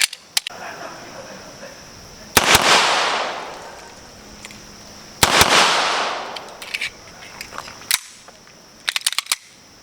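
An Armscor 1911 Classic pistol fires at a target 5 meters away, with sharp, loud gunshots in quick pairs and a few further bursts of shots toward the end.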